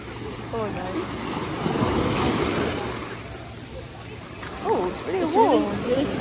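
Sea waves wash in at the shore in a steady rolling surge, with gusts of wind buffeting the microphone and faint voices murmuring nearby.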